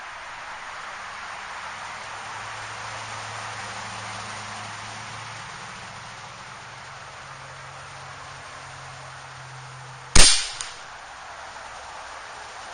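A single sharp crack from an Air Venturi Avenger .25 air rifle fires once near the end, close and loud, after a long stretch of steady background hiss and low hum.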